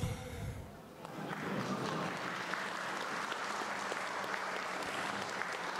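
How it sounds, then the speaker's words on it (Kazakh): Wedding guests break into applause, the clapping swelling after a brief lull into a dense, sustained crowd ovation that carries on steadily to the end. "шапалаққа дауыс қосып,"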